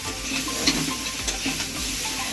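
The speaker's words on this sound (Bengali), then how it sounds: "এবার এটাকে আমি ভালো করে মাখিয়ে নেব, মাখিয়ে এটার সাথে একটু ভালো করে মশলাটাকে কষিয়ে নেব।" Boiled potatoes are sautéed with spices in a pan, giving a thick, close sizzle that hisses without pause while a spatula stirs them in a few soft scrapes.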